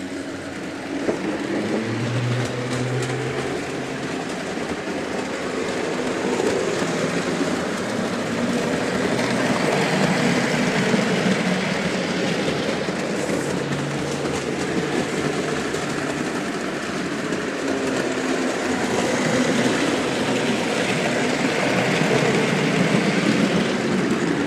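A model railroad main line train runs continuously, its steady rumble and whirring motor noise holding at an even level throughout, with no talking.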